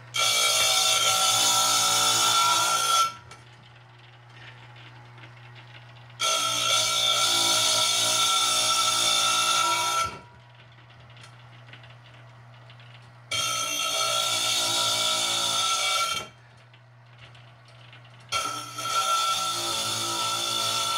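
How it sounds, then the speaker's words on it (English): Repurposed broken vase being polished with a power tool in a studio: loud, high whirring bursts of a few seconds each, repeated four times, with a low steady hum in the gaps. "Okay, here's Jeannie polishing it up."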